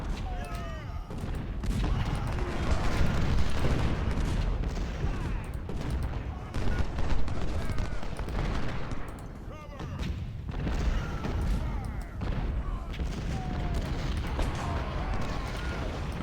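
Artillery booms and cannon fire roll through a Civil War battle in Ultimate General: Civil War, dense and continuous with heavy low thuds, while someone talks over the din.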